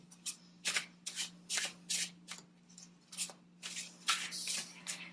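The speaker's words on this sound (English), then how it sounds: "Shuffling cards does that for me." Tarot cards being shuffled in quick repeated riffling bursts, close and crisp, over a steady low electrical hum.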